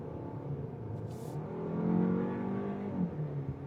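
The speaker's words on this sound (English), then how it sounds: "Let me go ahead and lay into the throttle here." A 2025 Kia K4 sedan accelerates under full throttle, its engine note climbing steadily and loudly from inside the cabin with no talk over it.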